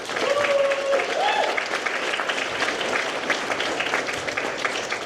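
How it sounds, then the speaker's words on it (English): Graduation ceremony audience breaking into applause, a broad crowd of clapping with a few whoops and cheers on top, loud at first then settling into steady clapping. "So please give yourself another round of applause."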